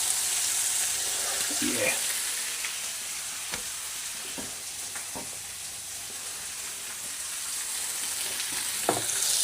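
Bacon and frankfurters fry in a pan with a continuous close crackling sizzle, broken by occasional sharp pops and scrapes, while a voice briefly speaks.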